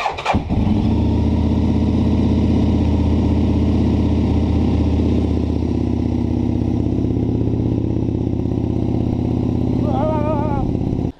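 A 2003 Aprilia Tuono 1000 with an Akrapovic exhaust runs steadily with the choke pulled out further, a loud, close, continuous engine drone after a brief start at the beginning.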